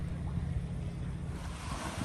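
Strong gusting wind and choppy waves at an island dock, with sustained winds near 25 mph; a constant low roar and buffeting rumble that fills the whole stretch evenly, close and steady, with no voices.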